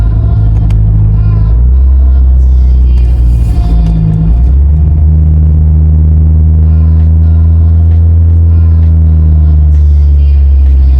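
Loud, steady engine rumble and road drone from a car on a test drive after a repair, rising and settling as it accelerates up to speed, with no voices.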